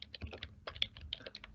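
Fast typing on a computer keyboard while entering data into an Excel table, a close, rapid run of light key clicks with brief pauses.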